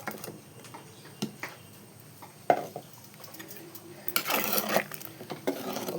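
A ladle stirs a ground curd paste into simmering ash gourd pulissery, with soft scraping and clinks against the pot, a sharp tap midway and a brief rush of pouring near the end, all fairly quiet.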